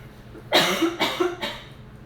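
Three close coughs in quick succession, near and fairly loud, each a harsh burst with brief breath between.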